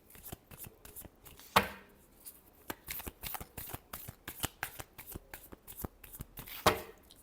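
Tarot cards being shuffled by hand, a steady run of crisp riffling and tapping strokes up close with a couple of louder slaps, no voices.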